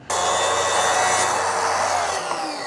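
A power tool cuts to trim a slightly tapered wooden piece during shed building, starting abruptly and running as one loud, steady, close whine for about two seconds.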